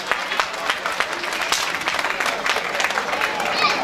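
An audience claps at a village festival concert in Turkey, a sustained wash of many hands applauding steadily with a voice faintly mixed in.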